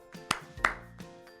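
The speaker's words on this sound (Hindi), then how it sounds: "कैच करने से पहले ताली मारो" Sharp hand claps, about two or three, spaced through a short stretch, fairly close, with a faint ringing tone and low murmur between them, part of a children's catch-the-stone-and-clap game.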